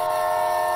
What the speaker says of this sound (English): Oh, I hear Henry's whistle.